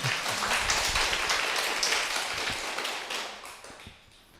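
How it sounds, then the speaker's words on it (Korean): A small audience at a parish Bible study session applauds together, with close, dense clapping that fades out toward the end. "박수 한번 쳐주셔야죠"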